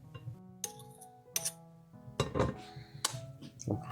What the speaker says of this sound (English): I'm gonna scrape off my spoon.